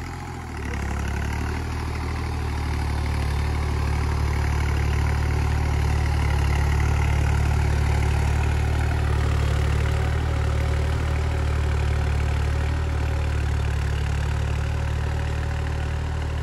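A Deutz-Fahr 70 hp tractor engine idles steadily and loudly at close range with a deep, constant rumble and no one speaking.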